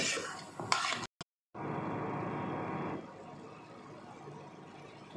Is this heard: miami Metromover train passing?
no